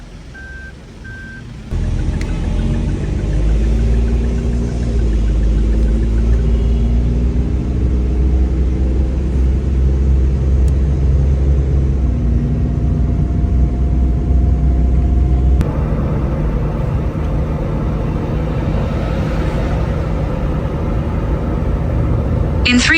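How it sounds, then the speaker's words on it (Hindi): Car engine running steadily during a test drive through Karachi, a continuous low rumble with shifting drone tones, loud and close from inside the cabin. "गाड़ी की टेस्ट ड्राइव लेते हैं इंशाल्लाह"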